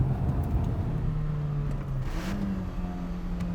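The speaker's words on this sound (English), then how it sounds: "Perfectly into second gear." Toyota MR2 engine pulling steadily under load, its low drone holding one pitch before a brief dip and a slightly higher tone as the car shifts into second gear, close and continuous with no talking.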